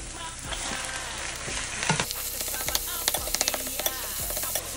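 Garlic, onion and ground beef frying in a pan, giving a steady loud sizzle broken by repeated scraping strokes of a stirring utensil, close up and with no voices.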